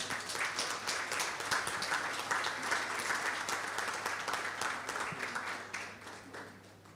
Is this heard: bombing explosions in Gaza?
no